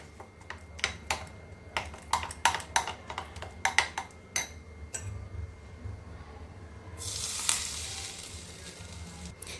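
Spices for a paneer tikka masala tadka crackle and sizzle in hot oil with sharp pops, then a louder hiss swells near the end; close and without speech.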